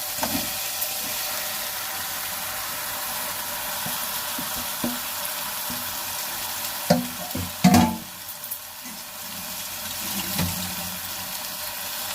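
Chicken for biryani frying in a pan gives a constant close hiss of sizzling oil, with a few brief knocks and clatters partway through.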